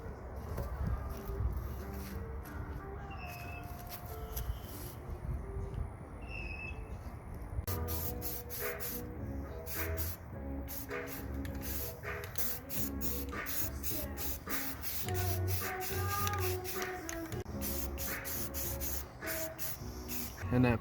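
Primer sprayed in hisses and bursts onto a sandblasted, powder-coated winch and bumper in a work area, with a steady rushing hiss and some clattering and knocking in the background.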